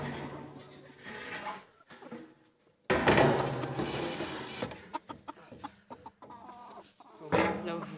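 Chickens cluck in a henhouse with a frizzle rooster among them, giving bursts of close clucking and squawks broken by a short silence, with some clattering and handling noise.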